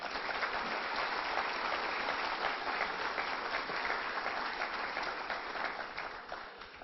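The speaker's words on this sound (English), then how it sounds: "So a round of applause for Pater." Sustained applause from an audience at a book launch, a steady wash of many hands clapping throughout that tapers slightly at the close, with no talking over it.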